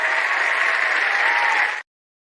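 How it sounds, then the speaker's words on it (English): A short burst of enthusiastic group applause, steady and dense for under two seconds before cutting off abruptly into silence. "You are going to get the big clap too."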